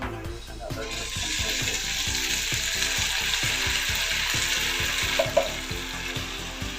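Chicken and onions fry in a pan for a Natu Kodi curry, giving a steady, bright sizzle under a rhythmic mechanical ticking, fairly loud and close, with no talking.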